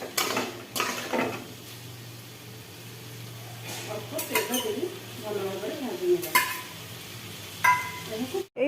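Crab and potato stir-fried in a pan with a spatula, steady sizzling under repeated scraping and clinking strokes of metal on the pan, with brief talk in between.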